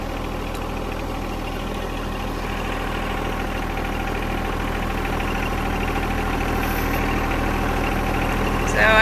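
A tractor engine runs steadily while driving over land while moving boulders, a loud, low, even drone that rises slightly toward the end, with no talk.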